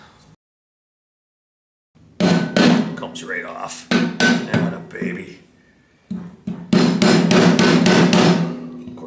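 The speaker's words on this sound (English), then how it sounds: "I like to use a rubber mallet on these." A rubber mallet thuds repeatedly against the metal housing of a vintage 1980s Craftsman motor during a rebuild, in quick bursts, loud and close, with someone speaking briefly between the blows.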